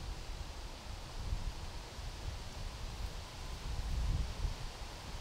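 Gusty wind rushing through trees at an outdoor disc golf course, a steady broadband roar that swells in stronger gusts toward the end, with no talk.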